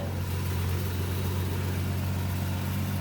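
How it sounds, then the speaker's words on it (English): A 1976 Ford F250 4x4 highboy truck engine running steadily at idle, a strong low hum holding even and close for the whole stretch with no talk over it. "Motor's running good."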